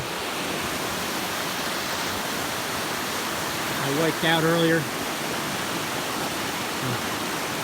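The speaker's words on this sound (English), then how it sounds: "Here's a little river crossing." A small river rushes over a rugged trail crossing in winter, a steady broadband wash of flowing water, with someone briefly speaking over it midway.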